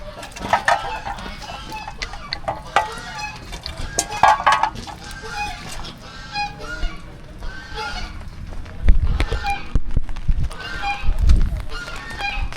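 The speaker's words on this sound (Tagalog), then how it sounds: "Tapos mga manok." Chickens cluck and call in an outdoor yard, scattered bursts of varied clucking near and far, with low thumps and soft talk now and then.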